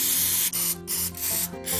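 Three short hissing bursts of cooking spray, close and loud, with brief pauses between them.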